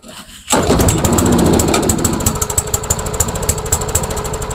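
An old, trashed lawnmower's engine catches after a pull and runs roughly, its loud, steady clatter beginning abruptly after a brief quiet start, then settling into a pulsing, uneven idle with no talk over it.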